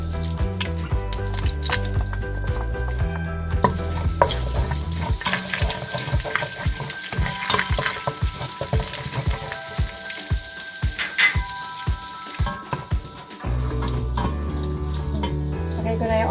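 Garlic fries loudly in olive oil and pork spare-rib drippings, a dense steady sizzle close up that fills the whole stretch with no talking.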